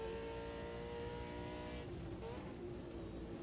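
A race car at Bathurst in the ANZCRL 2025 Bathurst 500 on worn tyres, its engine droning steadily and loud before the driver lifts off the throttle, the pitch dropping partway through.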